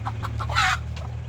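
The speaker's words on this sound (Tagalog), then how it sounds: "Nay manok ato nang ibalhin ron." Chicken clucking at a poultry yard where ducklings are raised, a few short close clucks in a loose rhythm over steady low background hum, with one louder squawk in the middle.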